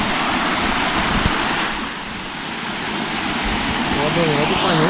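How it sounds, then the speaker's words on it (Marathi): Cold water rushes steadily through a natural jacuzzi-like rock pool on a farm, a loud, close, broadband wash that dips briefly midway, with voices talking faintly over it. "नॅचरल जकोजी थंड पाण्याची."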